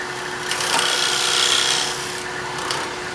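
A thin parting tool cuts a fillet on a wooden knob spinning on a lathe, giving a steady close scraping hiss over a low motor hum that swells mid-cut, with no talking.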